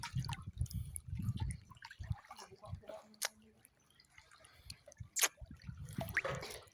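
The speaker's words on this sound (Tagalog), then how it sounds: "Nalublob na ang cellphone." A waterproof cellphone is dunked in water at an island, giving sloshing splashes and scattered drips, with faint voices in the background.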